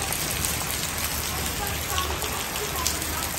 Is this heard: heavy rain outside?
yes